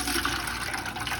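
Water from a Whirlpool washing machine's drain hose pouring into a trash can set low, a steady splashing rush heard up close without pause and with no talking.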